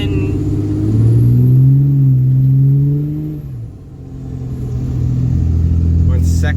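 A car engine drives on snow locked in second gear, a steady low rumble whose pitch rises then dips before settling again, loud and close throughout.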